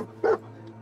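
A single short bark from the dog companion Dogmeat in the video game Fallout 4, loud and close over a low steady background hum.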